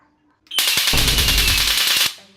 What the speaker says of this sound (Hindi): देखो बेटे, ये ऐसा पटाखा है।